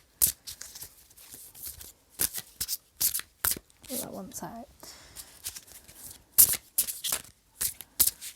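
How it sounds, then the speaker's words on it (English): A deck of oracle cards is shuffled by hand in quick, crisp bursts of riffling and flicking, close and fairly loud, with a person speaking briefly between the shuffles. "I'm going to shuffle on camera for you"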